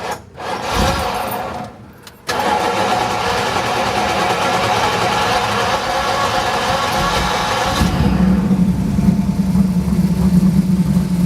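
A 1972 Ford Bronco with a built fuel-injected V-8 cranks briefly, catches and then idles steadily and loudly up close, with a deeper rumble settling in near the end; no one speaks.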